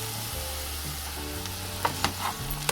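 Capsicum and jackfruit seed pieces fry in a pan with a steady close sizzle. A few light stirring scrapes and clicks come near the end, and a low hum sits underneath, with no talking.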